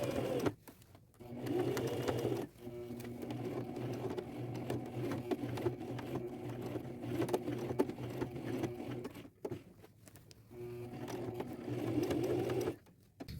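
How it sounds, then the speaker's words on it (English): A sewing machine with a denim needle stitching through denim jeans, running slowly in long steady whirring bursts with brief pauses between them, close and clear with no talk. "I'm using a denim needle, going nice and slow, and keeping my hand near the hand crank when I get to these tough seams."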